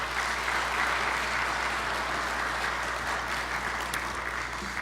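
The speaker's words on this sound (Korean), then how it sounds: "함께 큰 박수로 환영해 주시겠습니다" A church congregation at a Friday service applauds together to welcome the pastor to the pulpit, a steady, full-room wash of clapping that holds even throughout, with a low hum underneath.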